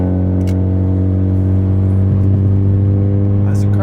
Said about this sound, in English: Why does the car sound like a dirt bike?